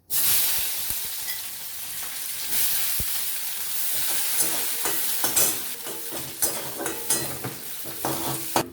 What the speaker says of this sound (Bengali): পেঁয়াজ আমার ভাজা হয়ে গেছে, লাল লাল করে ভেজে আমি তুলে রাখলাম